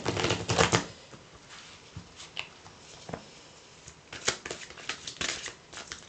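Tarot cards shuffled by hand in a quiet room, a run of crisp riffling flutters and soft slaps, loudest at the start and again near the end, with no talking.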